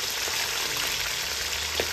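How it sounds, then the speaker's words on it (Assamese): Fish frying in oil in a hot wok, a constant hissing sizzle like light rain, steady and moderately faint, with a few soft pops. "গৰম কেৰাহীত এইফানে তেল দি ধুনীয়াকৈ মাছ ফ্ৰাই কৰাত লাগিলেই"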